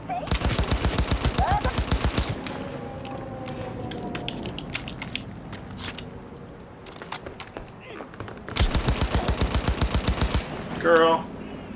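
Rapid automatic gunfire in a video game, two long sustained bursts at the start and near the end, with scattered single shots and impacts in between, loud and close.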